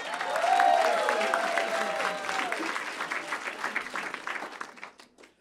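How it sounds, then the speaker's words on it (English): Warm applause from a comedy club audience at a stand-up class graduation show, starting full with cheering voices and gradually thinning into scattered claps as it fades out. "Let's have a big round of applause for everybody who's already been up here"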